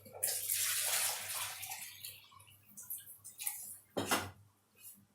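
Water from a bowl is poured into an empty cooking pot holding whole rose petals for homemade rose water. A loud, close, gushing pour fades after about a second, followed by smaller splashes and one sharp splash near the end.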